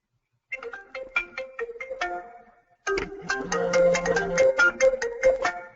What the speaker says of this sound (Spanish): timbre de teléfono común y corriente.